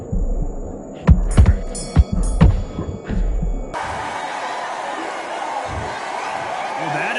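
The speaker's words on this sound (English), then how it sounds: "Ooh, listen to that crowd. Nobody's happy with that." A boxing arena crowd reacts to a draw decision with a broad, sustained roar of disapproval swelling up after a few thumps and brief sounds, filling the space loudly to the end.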